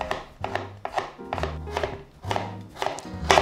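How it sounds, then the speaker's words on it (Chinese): A knife cuts a peeled carrot into thin strips on a cutting board, making a steady run of about eight crisp, close chops in an even rhythm with no talking. "把红萝卜切丝"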